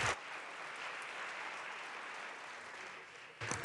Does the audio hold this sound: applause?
yes